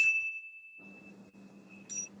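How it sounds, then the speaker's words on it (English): Small tincture bells rung during a yoga session, a bright ding that rings on with a long clear sustain, then a second strike near the end, with faint low murmur in between. "I'm going to go ahead and sound these little tincture bells here."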